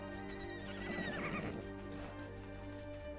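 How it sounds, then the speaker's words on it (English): Horse neighing in a video game, a clear whinny rising and falling over a sustained musical backdrop, with faint clip-clop of hooves and no talking. "That's a horse noise."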